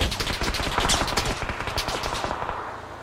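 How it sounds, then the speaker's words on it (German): Rapid automatic gunfire in the battle royale game PUBG, loud close bursts of repeated shots that trail off toward the end, with no talk. "Ja, verballer ruhig deine ganze Muni."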